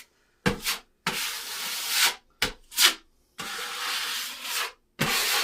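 Paint being scraped off a surface in rough, rasping strokes, several bursts of one to two seconds separated by brief pauses, close and fairly loud with no talking.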